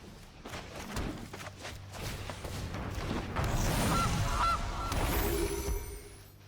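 A goose honks in the digital card game MTG Arena, a short honking call layered over busy, continuous game effects and music, with no speech.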